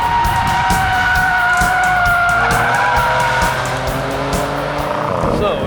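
An Audi S5 is driven hard around a race track, its engine loud and strained as the tires squeal and skid through corners. The engine tone shifts with a sustained high-pitched tire whine over a constant road roar.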